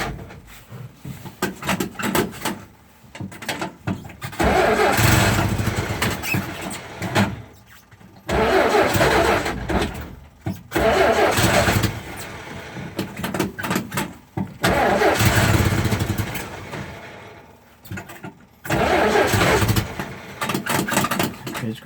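A 1949 Jeep engine turns over on a cold start in repeated cranking attempts, each a loud, close, several-second churning burst of starter and sputtering engine separated by short pauses.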